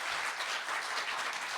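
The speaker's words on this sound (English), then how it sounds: "Let's give Amir, Chris, and John a round of applause" A conference audience gives a round of applause to panel speakers at the close of a session, steady, moderately distant clapping filling the whole stretch with no voices over it.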